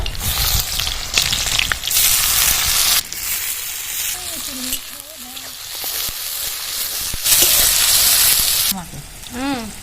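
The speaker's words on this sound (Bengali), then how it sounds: "কড়াইতে সর্ষের তেল দিয়ে দিচ্ছি ফোড়নের জন্য শুকনো লঙ্কা আর কালো জিরে কুচুনো পেঁয়াজগুলো দিয়ে দেবো" Chopped onions, dried red chillies and nigella seeds hit hot mustard oil in a wok with a loud, close, crackling sizzle, broken by stirring scrapes and a few whistle-like tones, and no voices.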